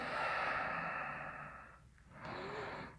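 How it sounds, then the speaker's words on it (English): A long, deep breath drawn in and released during a yoga workout, steady airy rush close to the mic with a brief lull before the next breath. "Let's take one more big breath here"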